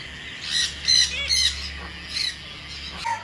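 Pet birds in a home cage let out a series of loud, sharp squawks, close and in quick bursts, with a few shorter calls trailing after a brief pause.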